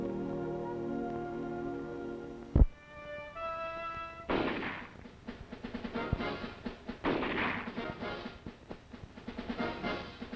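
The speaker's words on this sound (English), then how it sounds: "Qualifying with the rifle, firing on a trained fire range at pop-up targets." Rifle shots crack across a training range where soldiers qualify on pop-up targets, a single loud report standing out, followed by a rough, rattling mechanical rumble from old recorded footage.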